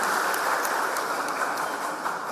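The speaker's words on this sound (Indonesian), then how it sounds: "Tepuk tangan dulu untuk Indonesia." A large crowd at a gathering of community figures applauds in one continuous, even wash of clapping, heard from a distance in a big hall, with no talk over it.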